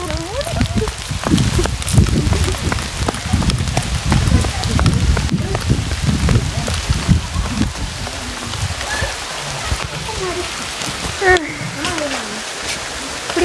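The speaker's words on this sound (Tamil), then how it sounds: "ஆமாம், மழை வந்துருச்சு" Rain falling in a hillside botanical and rose garden at Yercaud, a steady patter of drops on surfaces with people chattering and laughing over it throughout.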